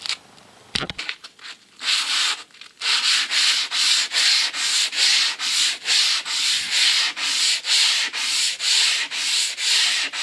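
Rhythmic wet sanding of sun-damaged car clear coat by hand, steady back-and-forth rubbing strokes with a soft hiss, close and fairly loud, repeating evenly throughout.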